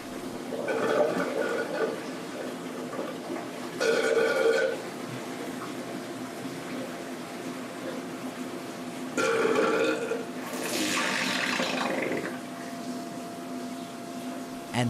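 Water drains from an aquarium algae filter down into the sump below, gurgling in a few short bursts over a steady background hum and a soft continuous trickle.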